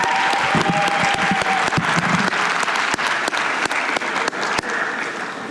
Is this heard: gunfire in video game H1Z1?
no